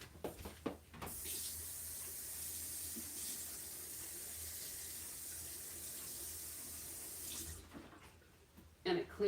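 Tap water runs steadily under a near stream as an embossing folder is rinsed clean, a continuous broadband rush lasting most of the stretch before cutting off, with brief handling clatter at either end.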